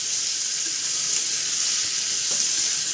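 Prawns fry in oil for a Marathi-style prawn gravy, giving a steady, dense sizzling hiss that stays even and unbroken from start to finish, with no voices over it.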